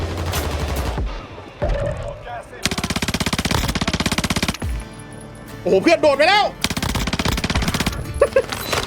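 Mobile video game gunfire rattles in long, fast automatic bursts broken by short pauses, with a person speaking briefly between the volleys.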